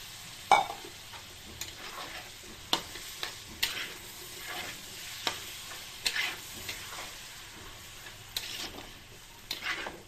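Fried potatoes cooking with poppy seed paste in a home kitchen, a soft sizzle under repeated sharp scrapes and clinks of a spatula stirring the pan at an uneven rhythm, close and moderately loud.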